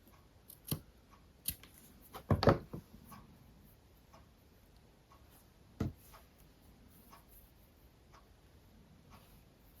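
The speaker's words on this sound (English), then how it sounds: "Let's cut one bit off." Scissors snip through fabric for a junk journal in a few sharp, close clicks, with one longer crunchy cut near the start and quiet pauses between.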